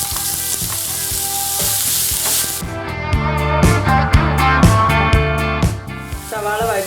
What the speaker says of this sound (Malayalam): ഓയിൽ ചൂടായി വരുമ്പോൾ ഇതിലോട്ട് അരിഞ്ഞു വെച്ചിരിക്കുന്ന സവാള ചേർത്ത് കൊടുക്കുകയാണ്.